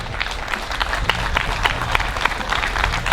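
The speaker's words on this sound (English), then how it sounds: "let's give them all a nice round of applause" A room of people at an athletic reunion gives a round of applause, a dense, continuous patter of many hands clapping at moderate loudness throughout, with scattered voices mixed in.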